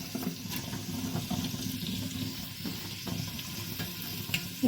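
Sliced onions sautéing in a pressure cooker for paneer biryani, a soft continuous sizzle broken by scraping stirs and light clinks of the spoon against the pot, fairly quiet and with no voices.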